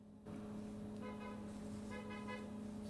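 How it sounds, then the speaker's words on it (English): A car horn honks steadily over a constant rumble of nearby traffic, with the engine drone continuing throughout. "Horn honking."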